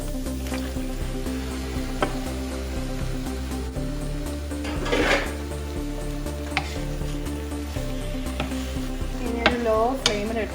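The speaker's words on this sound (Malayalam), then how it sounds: "And I'm going to mix the beef in it." Beef being stirred into Kerala-style spicy masala in a hot pan with a little water, a steady close sizzle under repeated scraping and stirring strokes, with occasional brief clinks of the utensil against the pan.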